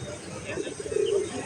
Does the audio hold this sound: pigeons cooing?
yes